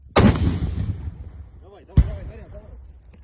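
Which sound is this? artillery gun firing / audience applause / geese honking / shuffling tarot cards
artillery gun firing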